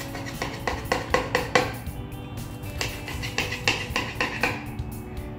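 A knife slicing turkey bacon avocado sandwiches in half on a board, a series of close crisp cutting taps and clatters in uneven bursts, without talk.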